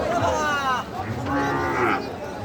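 A cow at a crowded cattle market gives two drawn-out moos close by, with faint voices and market bustle underneath.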